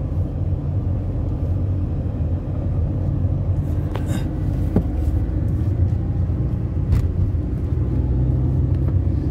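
Steady low rumble of a car engine straining in low gear up a steep, winding hill road toward a lookout and telecom tower, continuous and close, with no talking.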